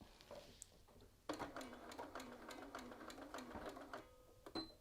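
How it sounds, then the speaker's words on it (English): A sewing machine with an edge stitch foot stitches along a button band seam, a quiet, steady run of rapid mechanical stitching that starts after a brief pause and continues almost to the end. "now we're going to sew along this seam line on the button band"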